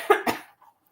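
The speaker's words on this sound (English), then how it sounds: "I have like this weird thing in my throat. I'm gonna cough." Two quick, close coughs from an adult in a throat-irritated state, sharp and loud, followed by quiet breathing.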